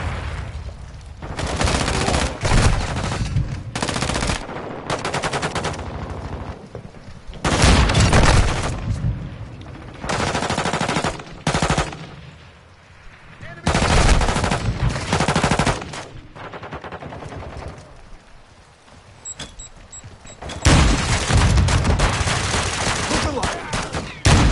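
Gunfire in the Modern Warfare 2 video game: repeated loud bursts of automatic fire and booming shots, coming in clusters separated by short gaps.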